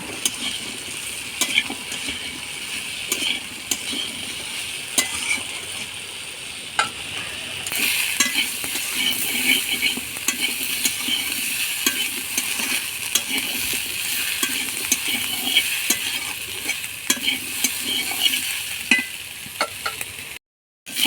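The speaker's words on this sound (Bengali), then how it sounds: "ডাঁটাগুলো দিয়েও একটু ছকে নেব" Vegetable stalks being stir-fried with potatoes for a vegetarian chorchori, a continuous close sizzle with frequent light clinks and scrapes of a utensil against the pan, growing brighter partway through.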